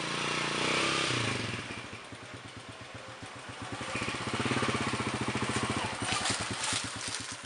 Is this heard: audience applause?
no